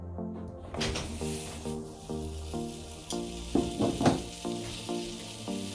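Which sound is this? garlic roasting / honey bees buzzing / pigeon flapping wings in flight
garlic roasting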